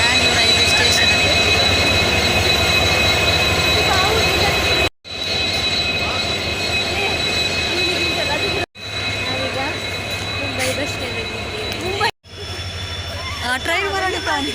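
A train rumbles at Mangalore railway station with loud, continuous rail noise and occasional wheel squeals, interrupted by brief cuts, while people talk nearby.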